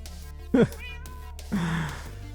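Minecraft cats let out two short meows, one shrill and one longer and drawn out, over a quiet low game hum.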